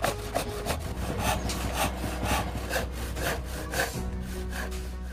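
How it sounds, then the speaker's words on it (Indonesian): Hand saw cutting a piece of wood, shaping a wooden model of an M1887 shotgun: steady, close rasping back-and-forth strokes in a quick even rhythm, with no talk. "setelah digambar, di sini saya menggergajinya supaya nanti mempermudah untuk proses pembentukannya"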